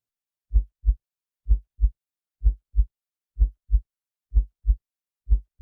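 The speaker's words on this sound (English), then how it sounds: "We're getting pretty close to a realistic heartbeat now." A synthesized heartbeat effect built for minimal techno sound design, six evenly spaced lub-dub pairs of deep, soft thumps in a steady rhythm against complete silence.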